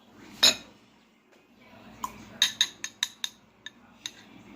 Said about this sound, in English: now she's gonna start filling up the cups with chocolate pudding